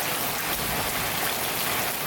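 Steady rain with pattering raindrops falling on a surface, a dense continuous hiss that holds at an even level throughout with no voices.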